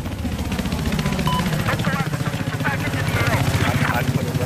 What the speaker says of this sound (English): can you land a chopper on someone and get a kill?